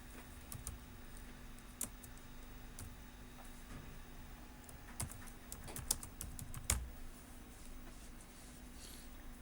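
Computer keyboard typing as text is entered in InPage: scattered light key clicks, irregular and faint, over a low steady hum, with no talk.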